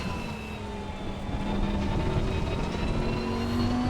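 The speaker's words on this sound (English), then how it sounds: "All I hear is the freaking traction control just..." Steady Lamborghini race car engine drone in Assetto Corsa Competizione, with tonal whine and stuttering, rapidly pulsing traction control cuts, continuous and fairly loud, no talking.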